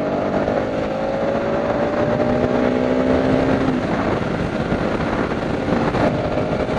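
Kawasaki Rouser RS200 motorcycle running on the road, a continuous close engine drone with a rising and falling hum and steady wind noise throughout.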